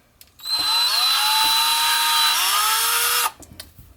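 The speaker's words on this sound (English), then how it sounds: "we're just gonna drill it like this" A power drill whirs steadily at high speed for about three seconds, close by, its pitch rising slightly before it stops abruptly.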